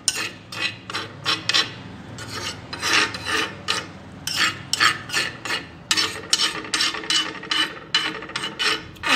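Soot is scraped off a hot surface for making kajal, a rapid series of close, rhythmic rasping scrapes in short bursts.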